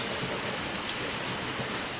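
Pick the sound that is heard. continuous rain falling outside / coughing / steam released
continuous rain falling outside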